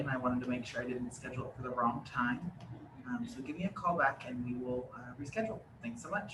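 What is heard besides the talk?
No everyday noises stand out.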